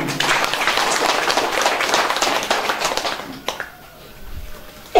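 A crowd at an Indonesian election campaign event in a village in Lembata claps loudly for a few seconds, then the applause thins out to scattered claps and fades.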